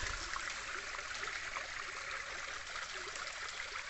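A small stream runs through a forest with a steady, soft rushing and trickling of water, faint and continuous with no voices over it.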